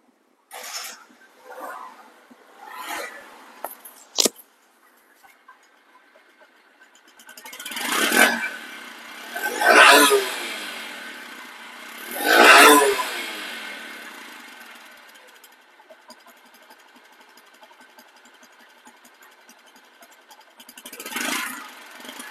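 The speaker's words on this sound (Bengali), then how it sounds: "এখন বাইকটির চলা দেখেন" Bajaj Platina 110cc motorcycle engine, a few short revs followed by several loud surging accelerations that fade between, ending with another rev.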